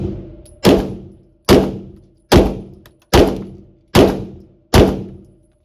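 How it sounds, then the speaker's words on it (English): A Staccato XC handgun fires seven evenly spaced shots at a brisk pace on a range at 7 yards, each a loud, sharp report with a short decaying tail, and no talking between them. "I'm going to shoot at a pretty brisk pace, and at this point, I'm basically trying to see if it'll fail."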